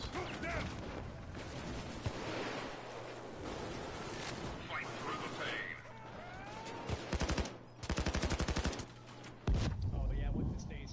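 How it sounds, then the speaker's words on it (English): A PayDay turret fires its machine gun in rapid bursts amid heavy gunfire, shouting voices and chaotic crashes, the rattling volleys loud and close. "That turret's fucking shit up"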